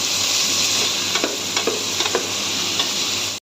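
Soaked cashews and raisins fry in a pan for Basanti pulao, a steady bright sizzle with a few soft pops and stirring clicks, close and alone, ending abruptly.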